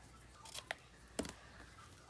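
Faint, brief snips of scissors cutting magazine paper for a collage, two quiet crisp cuts close by in an otherwise hushed room.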